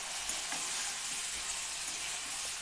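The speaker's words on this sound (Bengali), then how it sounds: "আমি এভাবে 5 মিনিটের মতো কষে নেব।" Soya chunks sauté in a hot pan with a steady, close, even sizzle and faint stirring. No voices are heard.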